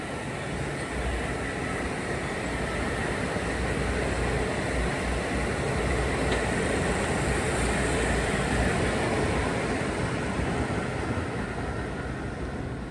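Metro North train 1775, running from New Canaan to New York, passes close by as a steady, loud, continuous rumble and rushing roar that holds for the whole stretch, with no talking.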